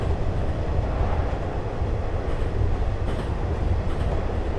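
A Japanese train runs on rails in a train simulator game, giving a loud, steady rolling rumble with faint rhythmic wheel clacks throughout and no talking.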